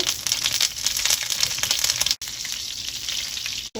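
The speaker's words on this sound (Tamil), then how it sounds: "இது ஒரு 5 நிமிஷம் எண்ணெயில நல்லா வதங்கட்டுங்க எல்லாமே" Fennel seeds, dried red chillies and curry leaves fry in hot oil for a mutton chops gravy, giving a loud, steady, dense sizzle that carries on throughout with only a brief dip near the end.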